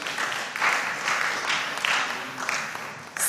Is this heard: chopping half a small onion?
no